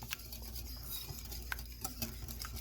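Heavy cream and milk being mixed for a spring green quiche, with a steady scraping stir of utensil against a bowl and a few light clinks, close and fairly quiet, with no talking.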